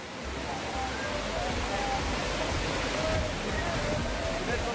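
Vangan waterfall in the South Dang area of South Gujarat gives a steady, broadband roar of rushing water that holds without a break from start to finish, with faint voices now and then just under the noise.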